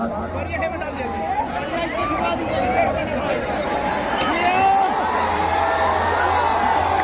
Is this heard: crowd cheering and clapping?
yes